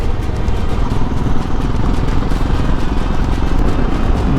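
Motorcycle ridden along a highway toward Hampi, entering Karnataka: a loud, steady roar of engine and rushing wind fills the whole stretch with no break and no voices.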